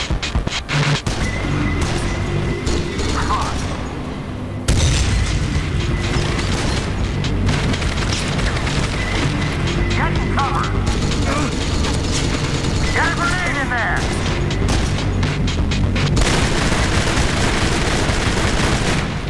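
Gunfire and explosions from the video game Kane & Lynch: Dead Men, a dense, loud and unbroken barrage of shots and booms with mechanical clatter, briefly dropping out near the start before resuming at full intensity.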